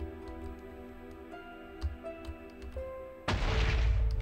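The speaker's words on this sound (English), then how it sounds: "it should have a much bigger explosion when it dies" A mutant creeper explodes in the video game Minecraft: a few soft ticks and thumps, then a sudden loud, roaring burst of noise that sustains to the end.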